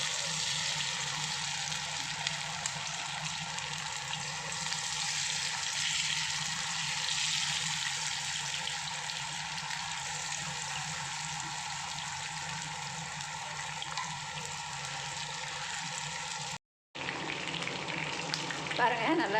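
Ground-masala chicken fries in hot oil for a chicken varuval, a dense, steady sizzle close up that runs on without a break apart from a brief dropout near the end.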